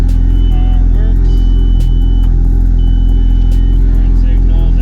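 A Toyota Supra MK4 engine idles loudly and steadily up close, a constant low rumble with intermittent chime tones and people talking over it.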